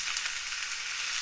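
Onion and carrot frying in a pan of vegetable oil, a steady close hiss and crackle of sizzling that holds evenly throughout with no voices.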